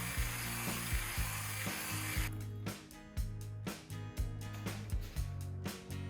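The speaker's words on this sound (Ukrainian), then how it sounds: "Окремо збиваю 2 яйця, 80-100 г цукру і дрібку солі та збиваю до світлої пишної маси" Two eggs whisked with sugar and a pinch of salt in a bowl, first a soft blurred churning, then quick regular whisk strokes tapping and swishing in a steady rhythm, fairly quiet and close.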